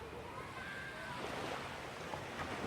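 Ocean waves on a sandy beach, a steady broad wash of surf and wind noise that rolls on without pause, moderately quiet and unbroken.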